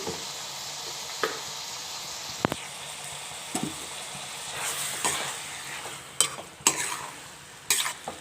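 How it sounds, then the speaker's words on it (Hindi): Black pepper keema matar fries in a pan with a steady low sizzle, while a spoon scrapes and knocks against the pan in irregular strokes that grow more frequent toward the end, close with no talking. "मैं इसको थोड़ा सा अच्छे तरीके से भी भूनूंगी।"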